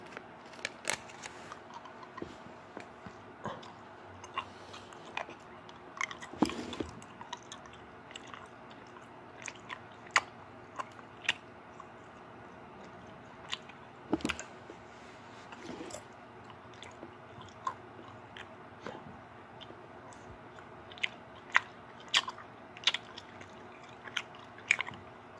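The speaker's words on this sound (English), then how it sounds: "this review is strawberry chew. And I'm going to chew individually." Someone chews strawberry fruit chews one at a time, with soft irregular sticky bites and squishes up close in a quiet room.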